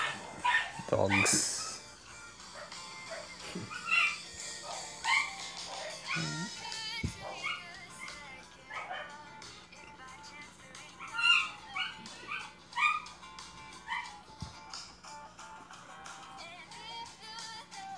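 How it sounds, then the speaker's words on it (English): Dogs yip, whimper and bark in short, scattered bursts, some high-pitched, mixed with background talk and other noise. "Dogs."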